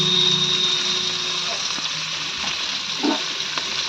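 Ginger garlic paste frying with chicken in a home kitchen pan, a steady broad sizzle with occasional stirring clatter, close and fairly loud, with a low background hum throughout.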